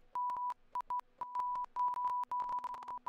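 Electronic beeps in a horror survival game, pulsing like Morse code: a clear steady tone keyed on and off in short and longer bursts, irregular rhythm, close and clean with no talking.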